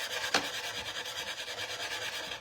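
A wooden cutting board being hand-sanded in a missed spot, with close, rhythmic back-and-forth rubbing strokes and one sharper scrape near the start.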